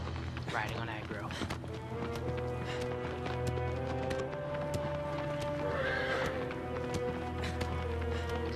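Agro, the horse in Shadow of the Colossus, gallops with steady clip-clopping hooves and occasional whinnies, set against a continuous musical score throughout.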